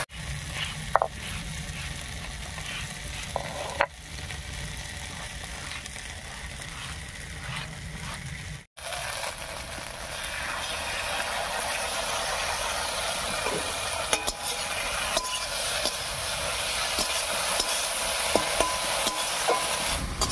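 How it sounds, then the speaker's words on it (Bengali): Okra sautéing in a pan with a ground spice paste, a steady sizzle with scraping stirring strokes that grows fuller and louder partway through, with no talk. "মশলাটা দিয়ে ভেন্ডির সঙ্গে একটু কষিয়ে নিয়েছি"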